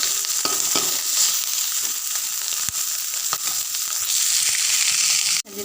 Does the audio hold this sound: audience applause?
no